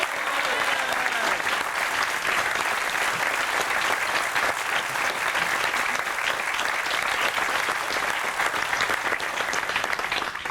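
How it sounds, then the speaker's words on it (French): Sustained audience applause at a university event in Corsica, a dense, even roar of many hands clapping that continues unbroken and fairly loud for about ten seconds. "Batti Paoli e Christophe Gallego, on les applaudit."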